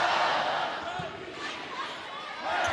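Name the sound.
vociferous crowd of 6,000 in Rec Hall volleyball arena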